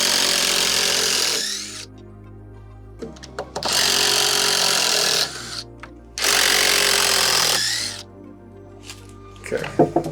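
Power tool whirring in three long bursts of about two seconds each, separated by quieter gaps with knocks and clatter, while siding goes up on the front entrance of a homestead cabin build.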